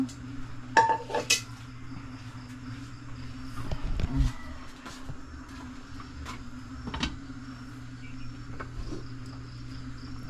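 A few light metallic clinks and clatters of a pot being handled, close by, over a steady low hum with quiet gaps between.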